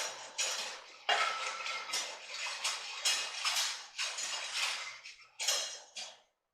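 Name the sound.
stirring cornstarch into Korean beef in a slow cooker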